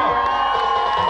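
Audience at a comedy performance clapping and cheering in a dense, steady roar of crowd noise, with shouts and whoops rising over it throughout.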